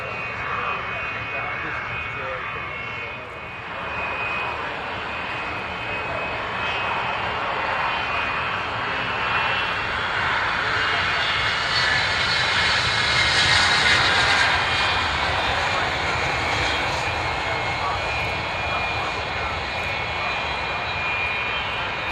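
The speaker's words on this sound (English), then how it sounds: "Here it is, coming into land, Royal International Air Tattoo style." An aircraft comes in to land at the Royal International Air Tattoo air show, its engines a steady loud roar that swells toward the middle and fades slightly, with a commentator talking over it.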